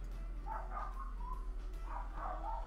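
Dogs bark in short clustered bursts: two quick runs of yapping, slightly distant, over a low steady hum and with no talking.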